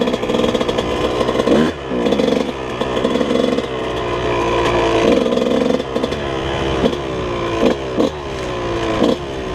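A Yamaha YZ125 dirt bike engine during a top-end break-in ride drones loud and close, climbing and dropping in revs with brief throttle-offs, at moderate load rather than full throttle.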